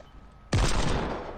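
A heavy gunshot blast from a hand cannon in Fortnite erupts abruptly and rings out, followed by the start of another shot at the end.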